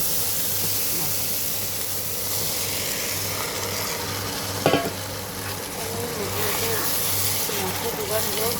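Spice masala sizzles in hot oil with a continuous hissing fry, a sharp clatter in the middle and stirring scrapes. Faint background voices can be heard.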